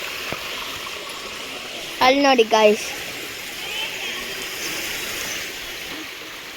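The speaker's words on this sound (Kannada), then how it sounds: "ಆ ಒಂದು ಜಲರಾಶಿಯಿಂದ ಒಳ್ಳೆ ಶುದ್ಧವಾದ ನೀರು, ಶಾಲ್ಮಲಿ ನದಿಯ ನೀರು." Clear Shalmali river water flowing steadily through the Sirsi jungle, a constant soft rushing wash from nearby, with a short burst of someone talking over it partway through.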